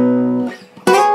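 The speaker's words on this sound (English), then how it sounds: "The first little fill you can throw in is right after the intro riff and before the first line" A short acoustic guitar fill in the style of a song, a sustained chord dying away, then a sharp new pluck ringing out clearly at the end.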